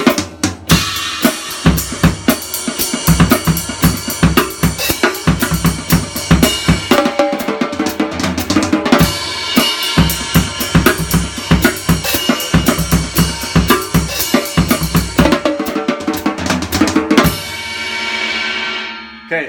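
A drum kit plays a busy, loud groove with fills built from 3-note groupings of 16th notes across the toms, snare and cymbals. It runs continuously and ends on a ringing cymbal crash.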